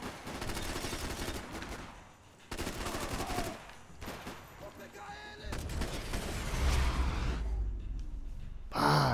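Gunfire in the video game Max Payne 3: several loud bursts of shots separated by short gaps, mixed with grunts and gasps and a heavy boom near the end.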